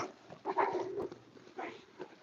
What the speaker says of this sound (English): And a puppy in the frame.